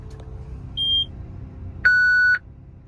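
Harvest equipment on a North Dakota farm beeps on startup: a short high beep, then a longer, louder lower tone, both over a faint background rumble.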